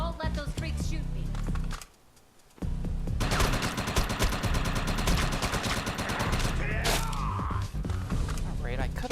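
Rapid gunfire from enemies in the shooter game Defiance crackles in dense bursts, stops briefly, then returns as sustained automatic fire with clattering mechanical detail and a louder flare near the end.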